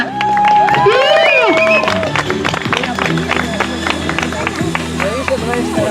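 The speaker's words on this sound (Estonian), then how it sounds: "Aga teeme suure aplausi Janale!" A crowd at a cable wakeboarding beginners' event claps and cheers loudly and steadily for a wakeboarder, with whoops and lively voices mixed into the applause.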